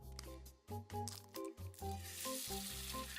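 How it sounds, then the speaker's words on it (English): Bacon frying in a pan sizzles and crackles with soft squishy pops under a layer of music. "A sizzling sound reminiscent of heavy applause followed, accompanied by the appetizing smell of frying bacon spreading across the room"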